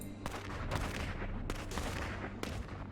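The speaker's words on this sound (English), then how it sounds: "I can hear cursing and gunshots from behind" A volley of gunshots cracks out behind characters who are fleeing, several sharp reports spaced roughly a second apart over dense, rumbling background noise, with no talking over it.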